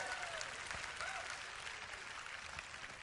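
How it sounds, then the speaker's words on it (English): Church congregation applauding during a Sunday service in Austin, Texas: steady, fairly faint hand clapping from a crowd, sustained through the whole stretch without a break. "give Laura a good hand clap"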